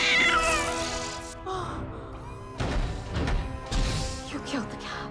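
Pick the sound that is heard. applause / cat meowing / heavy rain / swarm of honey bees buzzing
cat meowing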